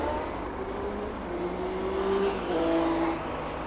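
Triumph motorcycles pass along a street in Hamburg, a steady engine drone that swells and shifts pitch as they go by, with no talking.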